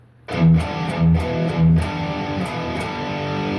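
A heavy, distorted electric guitar plays a chugging palm-muted riff, tight low stabs with brief accented notes, loud and close.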